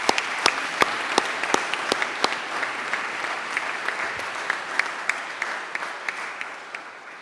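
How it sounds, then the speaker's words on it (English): Applause for the teachers at the Leysin American School 2022 graduation ceremony, a steady wash of clapping from a large audience with sharp individual claps standing out, sustained at an even level throughout. "Let us give your teachers a big round of applause"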